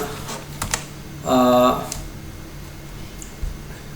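Keystrokes on a computer keyboard while entering field labels into an MS Access form, a sparse scatter of clicks over a steady background hum, with a short burst of other sound in the middle of the clip.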